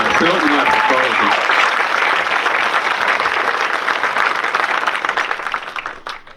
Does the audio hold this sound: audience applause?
yes